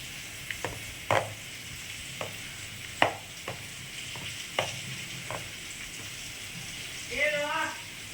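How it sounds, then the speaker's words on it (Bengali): Spices are stirred and mixed in a pan for fish curry. A spatula scrapes at irregular intervals over a soft background sizzle, and a short rising tonal squeal sounds near the end. "তো এবার ভালো করে এটাকে মিক্স করব ভালো করে এই মশলাগুলো মিক্সড করে নেবো"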